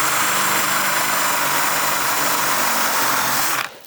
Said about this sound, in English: You can drill holes next to each other on the edge.